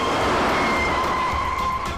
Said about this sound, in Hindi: ये मेरी गाड़ी को लेके जा रही है।